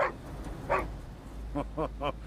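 A dog gives a handful of short, faint yips and barks in a quiet room. Two spaced calls come first, then three quick ones close together near the end.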